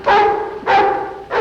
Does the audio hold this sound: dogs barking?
yes